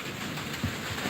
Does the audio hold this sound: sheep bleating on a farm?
no